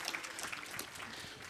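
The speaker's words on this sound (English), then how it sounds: "That's about the right amount of applause for one paragraph." Brief, fairly faint audience applause after a reading at a literary festival, a short patter of clapping from a moderate crowd.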